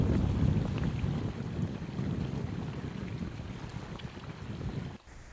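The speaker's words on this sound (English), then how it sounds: "The wind is blowing." Wind rushes over a microphone on a solo sea kayak trip among icebergs near Upernavik, Greenland, in 2005: a steady, loud, low buffeting roar with faint watery texture beneath, which cuts out abruptly near the end.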